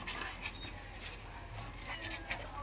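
A kitten, the offspring of a big-bellied mother cat, gives a few faint high meows over steady low background noise.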